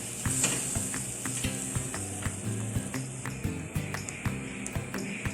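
Thick masala being mixed in a pan of Mangalore-style sole fish curry, with a steady run of soft scraping stirs and rhythmic knocks over a faint background sizzle, close and unaccompanied by speech.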